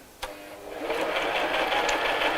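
A sewing machine starts up after a click and runs continuously, stitching a tote bag with a fast, even hum close by.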